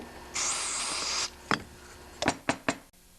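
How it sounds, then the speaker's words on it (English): Aerosol carb cleaner hisses into the filter area of a Honda CT70 mini bike carburetor in one steady burst of nearly a second. Several short sharp knocks and taps follow, with no talk. "Now I'm going to spray the area where the filter is with carb cleaner to flush it out the other way."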